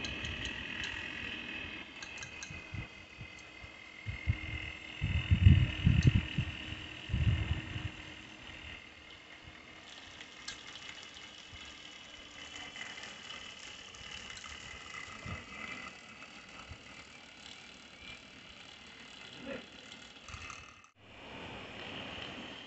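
A CPU fan driven by a DVD drive motor spinning at high RPM, a steady buzzing whine with rattling vibration and a louder stretch of clattering early on.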